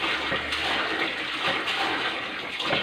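Water gushing steadily from a homemade PVC bilge pump for a boat, emptying a bucket: a loud, continuous rushing splash with little variation, close by and without talk.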